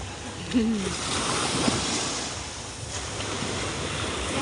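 Steady rush of surf and breaking waves at Panglao beach, with wind noise across the microphone, continuous throughout, with a brief faint voice-like sound near the start.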